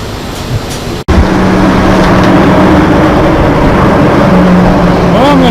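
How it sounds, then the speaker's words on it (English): Steady, loud mechanical rumble fills a working truck repair shop, broken by one sharp cutout near the start and a rising whine near the end. "that background noise, we're in a shop."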